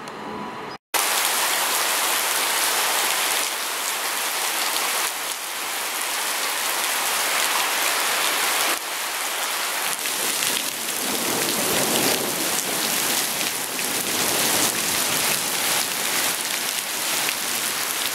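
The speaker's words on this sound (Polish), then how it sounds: "Leje coraz to więcej. Burza nieco zelżała, ale leje mocno." Heavy rain pours down during a thunderstorm in Czechowice, Poland, a loud continuous roar of drops hitting surfaces close by, starting abruptly after a brief gap and holding steady with no voices.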